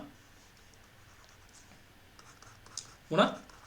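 Marker or chalk scratches on a board during a lecture, faint strokes building to one louder scrape near the end, with a teacher speaking quietly underneath.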